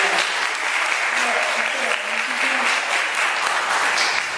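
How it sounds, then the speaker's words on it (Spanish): Applause from an audience at a monthly business meeting on innovation, a dense steady patter of many hands filling the whole stretch, with faint voices underneath. "¿Escuchó los aplausos?"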